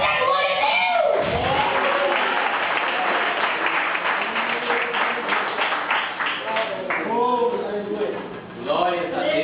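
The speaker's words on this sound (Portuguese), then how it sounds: "Bate palmas e dá glória a Deus" A church congregation claps and cheers during a lively worship service, with sustained, dense applause and shouts running throughout, broken by a short lull near the end before clapping resumes; voices call out over it.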